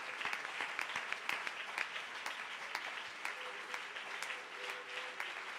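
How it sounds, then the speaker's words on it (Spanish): A congregation at a Spanish-language church service claps together one morning, a dense, steady round of applause that stays loud and even throughout, with no talking over it. "¿Cuántos dan un aplauso al Señor en esta mañana?"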